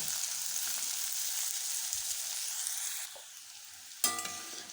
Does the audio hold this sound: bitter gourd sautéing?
yes